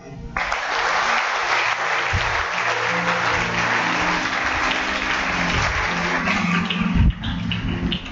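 Church congregation clapping during a sermon, dense sustained applause that holds steady for several seconds, loud and close.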